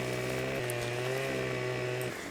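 A chainsaw cuts wood in the video game Farming Simulator 15, its motor droning as a steady buzzing tone that shifts pitch partway through and drops off near the end, heard alone.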